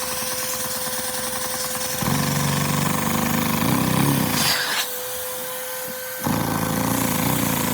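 A Lego vacuum engine running while its throttle is blipped and adjusted, a steady mechanical buzz that shifts in pitch and loudness several times, close by, with no clear speech.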